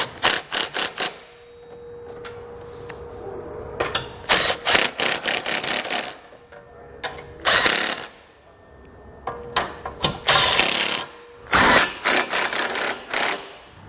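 Hitch hardware bolts are run down with a power tool on a 2015 Volkswagen Golf while a Curt trailer hitch receiver is installed, giving repeated short bursts of whirring and clicking, close and loud, separated by brief pauses.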